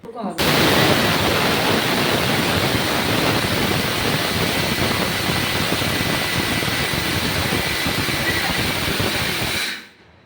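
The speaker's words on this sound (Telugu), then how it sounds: "దీన్ని మిక్సీ పట్టేసుకుందాం" Mixer grinder grinding pearl millet (sajja): a loud, steady whirring roar with a gritty hiss, running continuously for about nine seconds before it stops abruptly.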